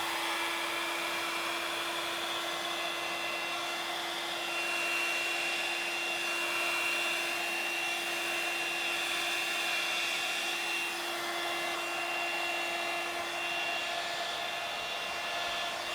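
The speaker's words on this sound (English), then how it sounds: "Let's take a small hairdryer." A small hairdryer blows steadily across wet acrylic paint, a constant whirring drone with a fixed motor whine that holds unbroken throughout, no talking.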